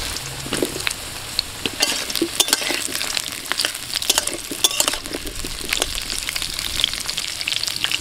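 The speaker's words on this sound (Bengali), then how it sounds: "কড়াই সরষের তেল দিয়ে দিয়েছি আর তেলের মধ্যে দিয়ে দিচ্ছি আলু। প্রথমে আলুটা ভেজে নেব।" Potatoes fry in mustard oil in a wok, a continuous crackling sizzle punctuated by sharp scrapes and clinks of a spatula stirring against the metal pan, loud and close with no voices.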